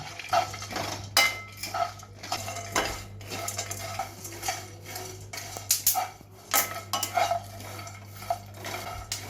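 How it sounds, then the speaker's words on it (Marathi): Thandai spices with black pepper are stirred and roasted in a pan, a spoon scraping and clinking against the metal in quick, uneven strokes, loud and close, with a faint dry sizzle underneath and no voices. "आता परतून घ्यायचं आहे खमंग सुगंध सुटेपर्यंत आपल्याला ह्याला छान परतून घ्यायचा"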